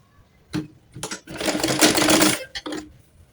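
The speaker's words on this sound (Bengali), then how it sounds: "সেলাই শুরু করব এই যে জয়েন্টের অংশ থেকে, মানে এই মাথার অংশ থেকে।" A sewing machine stitches fabric for a baby frock in short close bursts, a brief start, a pause, then a longer rattling run and a couple of quick final stitches, with no talking.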